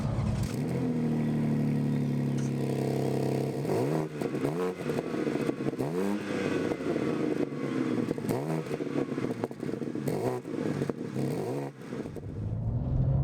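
A 2024 BMW M2 G87 driven hard on a mountain road. Its engine revs rise in repeated sweeping pulls, each broken by quick upshifts, and the note stays loud and close from inside the car.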